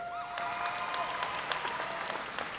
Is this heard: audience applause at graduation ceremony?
yes